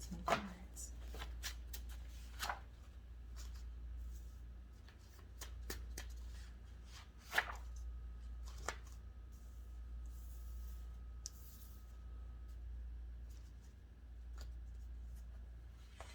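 Tarot cards shuffled by hand at close range, with crisp riffling bursts and scattered sharp snaps and clicks over a low steady room hum, with no talking heard.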